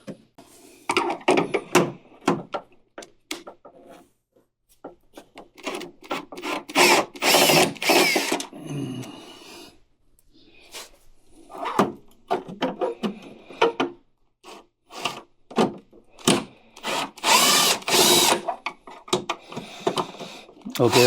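A handheld power drill drives screws on the controller of a Greenworks 80V snowblower during a repair, whirring in repeated short bursts with brief pauses between them, and someone talks throughout the work.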